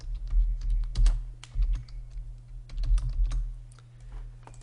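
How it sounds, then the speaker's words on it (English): Keys clatter on a computer keyboard while a label is typed into a Google Sheets spreadsheet, an uneven run of close, light clicks in short bursts over a low steady hum, with no talking. "we are going to type in our label"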